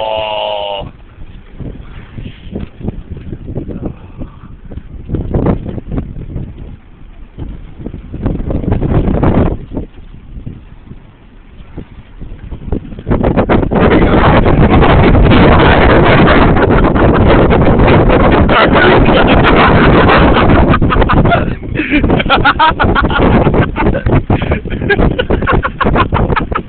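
Strong wind on a stormy day during a tornado watch buffets a microphone outdoors beside a car, roaring and rumbling in gusts, then turning into a loud, constant blast for the second half.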